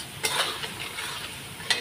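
Spice paste, ground with a little water, frying in a pan for chana dal while a utensil stirs it, giving a soft steady sizzle with a couple of brief scraping strokes. Close and fairly quiet, with no talking.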